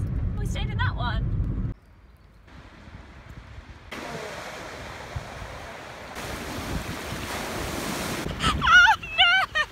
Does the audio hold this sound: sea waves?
yes